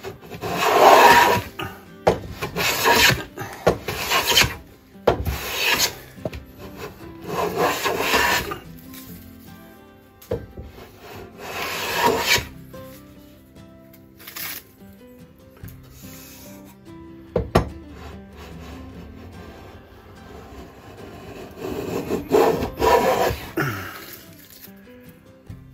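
Restored wooden hand plane shaving a thicker wooden board, with repeated rasping strokes in bursts of one to two seconds, close and fairly loud, separated by short pauses and no speech.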